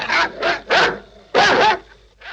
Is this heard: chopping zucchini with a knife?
no